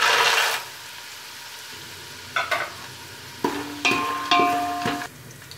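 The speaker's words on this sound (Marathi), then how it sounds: "शेंगदाणे बघा चांगले फ्राय झालेत" Peanuts frying in oil for puffed rice chivda, a brief loud sizzle at the start, then a quieter stretch broken by several sharp scraping stirs and clatters against the pan.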